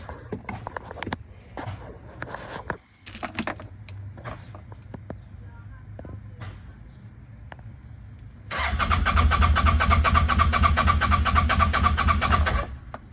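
A CFMOTO ZForce UTV engine cranks and catches after a fuel tank repair, turning into a loud, steady idle close by over the final seconds, following shuffling, clicks and voices.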